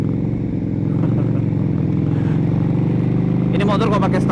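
A KTM Super Duke 1290 R motorcycle engine drones steadily and close while riding, with a sharper rising rev near the end and a person talking over it.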